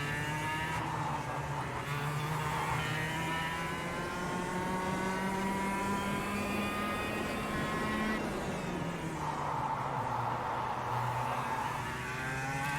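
A kart engine in the KartKraft racing game drones continuously with a buzzing, harmonic-rich tone, its pitch gently rising and falling through banked corners at a fairly steady, close level.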